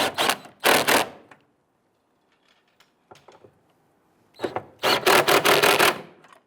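A ratchet clicks in two close, loud bursts of rapid ticking while snugging down the fuel pump module bolts on a Dodge Grand Caravan, quiet fiddling between them, no voices.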